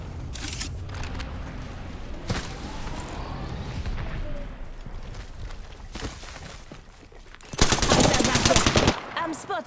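Gunfire in the battle royale shooter Apex Legends, with rapid automatic bursts and single shots, footsteps and movement between them, and a loud, dense volley of fire near the end.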